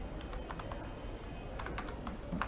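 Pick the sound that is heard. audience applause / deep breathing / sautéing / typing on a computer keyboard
typing on a computer keyboard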